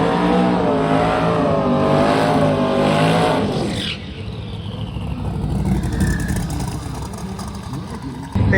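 A drag race car at Drag Week, in the water box, roars loudly with a harmonic engine note for several seconds, then drops into a rougher, quieter rumble and hiss as it moves off.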